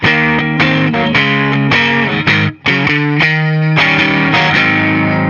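A distorted electric guitar plays a blues turnaround phrase, loud and sustained, with descending chord moves and a brief pause midway.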